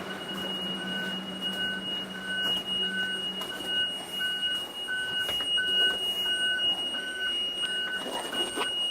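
A school bus reverse alarm repeats a steady, evenly spaced electronic beeping throughout over a low engine rumble and background noise, each beep short and moderately loud.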